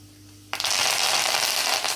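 Mustard seeds and cumin dropped into hot oil, a sudden loud sizzle bursting in and then crackling steadily and close.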